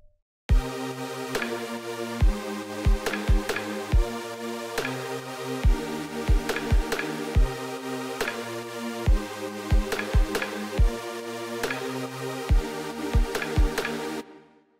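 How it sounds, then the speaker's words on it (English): A synthesized chord progression built in FL Studio plays alone, sustained harmonic chords with sharp percussive hits landing in a steady rhythmic pattern, clean and fairly loud throughout before cutting off at the end. "I made this little chord progression to apply the Tapestop on."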